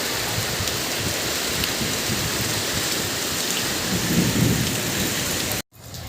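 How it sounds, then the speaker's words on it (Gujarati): A storm over Junagadh: steady rain hisses on surfaces while a low thunder rumble swells near the end, followed by a brief dropout and the rain resuming. "જો પાછો વરસાદ આવ્યો છે"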